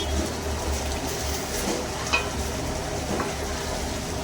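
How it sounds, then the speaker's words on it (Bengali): Potatoes for Kashmiri aloo dum sautéed with spices over a medium flame, a steady close sizzle with soft stirring scrapes and one brief clink, with no voices. "আমি 1 মিনিট ধরে এটাকে ভালো করে কষিয়ে নিচ্ছি।"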